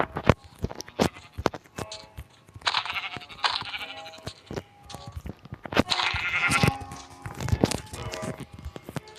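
Rams in a video game give repeated bleats amid footstep-like thuds and clatter, several loud overlapping calls close by with brief gaps between them.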